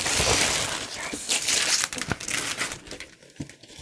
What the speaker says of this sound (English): It's the same original Avengers wrapping paper.